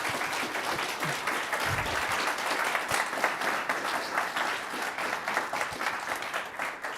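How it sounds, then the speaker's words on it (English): An audience at a First Amendment conference applauds a panel, with steady, dense clapping that continues evenly for several seconds. No voices stand out. "Just thank the panel with a round of applause."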